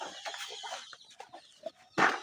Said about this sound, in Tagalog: Ang daming mga binuhing manok.